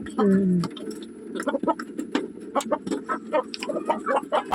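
Native chickens raised at home clucking close by, a bright cackle at the start followed by scattered short clucks and pecking-like ticks, with speech present in the background.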